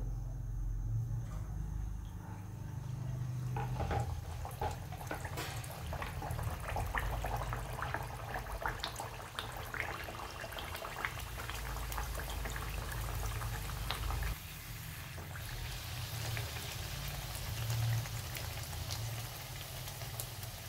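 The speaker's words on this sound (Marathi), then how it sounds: "आता आपण तेलामध्ये पुरी सोडून देऊ" Spinach puris drop into hot oil and fry with a continuous bubbling, crackling sizzle, moderately quiet and close, with no talking.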